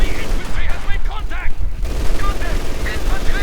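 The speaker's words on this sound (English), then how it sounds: "the conscripts running but straight into the MG42, getting suppressed" MG42 machine gun fire in Company of Heroes 2 crackles in dense bursts amid a loud, busy battle soundscape with booms and a continuous low rumble, while a commentator's voice talks over it.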